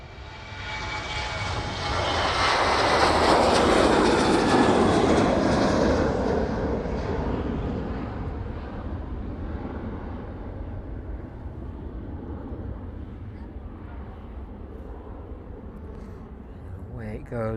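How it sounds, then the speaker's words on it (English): A Jet2 airliner approaches East Midlands Airport, its engine roar swelling from the distance to a loud, broad rumble as it passes close, then slowly fading into a steady distant drone. "the Jet2 service making its way towards us now then"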